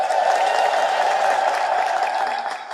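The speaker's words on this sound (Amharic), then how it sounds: "እስኪ አጨብጭቡ አንድ ጊዜ።" A congregation claps during an Ethiopian Orthodox sermon on Saints Iyelouta and Kirkos. The clapping is dense and sustained with a crowd murmur beneath it, and it eases slightly toward the end.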